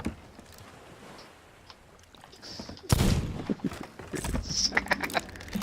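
Ship cannons firing in the pirate video game Sea of Thieves: after a quiet stretch, a sudden loud blast erupts, followed by a rumbling, crackling series of further booms and debris noise.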